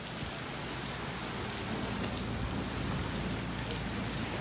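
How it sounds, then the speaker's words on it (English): Small hail falls steadily outside a house, a continuous dense patter of tiny ice pellets striking surfaces, even and unbroken throughout with no voices. "Malilit lang naman yung hail."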